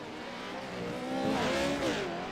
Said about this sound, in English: Skiles putting the pressure on that Premier Racing Setups truck.